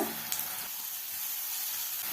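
Ginger garlic paste with salt and turmeric sautéing in a pan for an egg pepper fry gives a steady, even sizzle that holds for the whole clip, with no voices.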